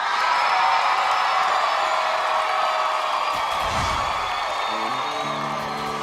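A large audience screams and cheers continuously for performers at a live talent show, a dense roar of high-pitched shouting with brief musical tones emerging near the end.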